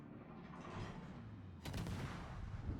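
Gunfire from a Japanese (IJN) torpedo destroyer in a naval battle game: a low battle rumble, then one sharp report that sets off a sustained boom, fairly faint overall.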